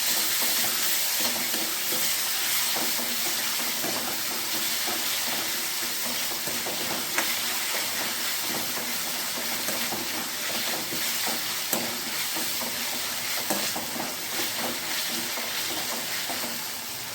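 Chopped onion and tomato frying in a pan, a continuous sizzle with scraping stirs and a couple of sharper clinks, steady and close with no talking.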